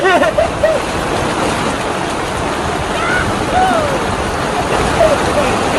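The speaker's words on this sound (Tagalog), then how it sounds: "Ang lakas naman ng ulan!" Heavy rain roars as a loud, continuous broadband wash close by, with excited voices and short cries breaking through over it.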